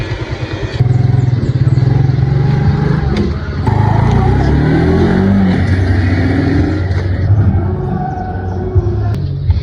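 A Suzuki Smash motorcycle engine runs close by with a loud steady idle and throaty revving surges, rattling mechanical clatter throughout, with people talking faintly underneath.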